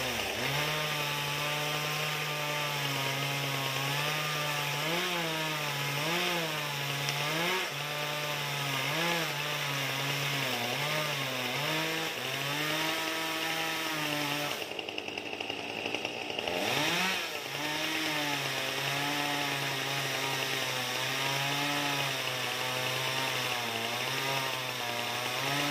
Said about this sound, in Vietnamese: Chú cưa thêm phút nữa